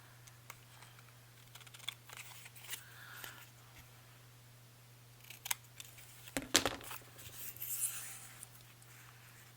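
Paper pieces for a collage are snipped with scissors in a quiet room, a series of soft, irregular close-up cuts and rustles with a faint steady hum underneath.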